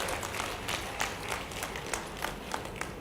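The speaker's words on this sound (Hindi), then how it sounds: "जोरदार ताली बजा करके मेरी बात का समर्थन व्यक्त करें।" Applause from a crowd at an outdoor political rally in Sagar, many hands clapping in a fairly even stream with a few sharper claps standing out, moderately distant and sustained without talk.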